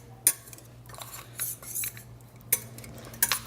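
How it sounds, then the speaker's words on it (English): A spoon scrapes and clinks against a pan while lasagne sauce ingredients are stirred in a home kitchen, giving a few sharp metallic taps among softer scraping strokes, close and fairly quiet, with no voices. "So Camilla, do you wanna just like stir that in?"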